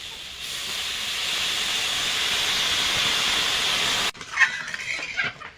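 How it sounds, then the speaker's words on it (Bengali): Hot water poured into a potato and pointed gourd curry frying in a pan produces a loud steady steaming hiss that cuts off abruptly, followed by a few softer bubbling and stirring clatters. "এবার গরম জল দিয়ে দেব।"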